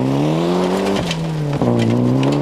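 David Mann's Proton Group N rally car, a Mitsubishi Lancer clone, screaming loudly at high revs with rising engine pitch broken by quick gear shifts, close and alone on a rally stage.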